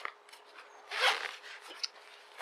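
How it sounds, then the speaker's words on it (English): Zippers rasp open on the large bottom pocket of a 5.11 Rush 72 backpack, a loud close zip run followed by lighter tugs and a sharp tick as the second pull moves, with fabric handling between. "the large pocket on the bottom here, similar to the Camelbak one, but this is actually bigger, and it zips open with 2 zips"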